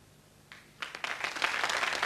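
An audience applauds a contestant on the Italian TV talent show La Corrida in 1988, the clapping starting thinly and then swelling into a steady, dense round of many hands.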